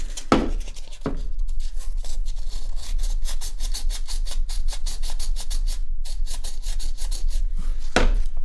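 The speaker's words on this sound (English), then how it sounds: "go back over it with some sandpaper" Sandpaper rubbing back and forth along an airsoft gun barrel during an R-hop job, a steady close rasping scrub that runs nearly continuously with only brief pauses.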